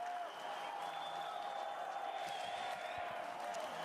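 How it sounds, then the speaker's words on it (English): Live esports crowd at a Dota 2 semi-final match cheers and applauds, a steady, distant wash of claps and shouts under a hall's constant hum, fairly faint throughout. "Now, the guys cheering right now,"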